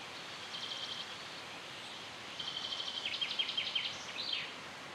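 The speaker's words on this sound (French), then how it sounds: "le chant des oiseaux" Small birds singing in a sunny forest, short trilling phrases and rapid repeated chirps at moderate distance over a soft airy background, with a denser burst of song in the second half.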